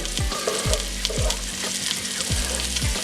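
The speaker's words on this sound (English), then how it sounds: "just add the onion in. I'm going to fry that up ever so, just to get a wee bit of colour onto the onions" Onion, with a stray bit of carrot, fries in a pan for a steak and Guinness pie filling, giving a constant close sizzle broken by a few rhythmic scrapes of a spoon against the pan, with no talking.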